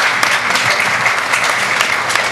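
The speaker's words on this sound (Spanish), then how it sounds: "Un fuerte aplauso, recibámosla." An audience at a Chinese Lunar New Year event claps steadily and loudly, welcoming a woman doctor to the microphones, the applause dense and sustained throughout without pause.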